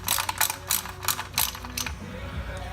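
A ratchet with a 10 millimeter Allen socket works a plug on a 2013 Jeep JK Rubicon, giving rapid clicking bursts of the pawl in several quick strokes, close and clear with no talking.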